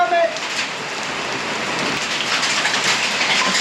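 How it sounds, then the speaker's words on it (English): Dense, steady patter of dime-sized hail striking surfaces, constant and loud throughout, with a faint voice at the very start. "Ooh, big hail"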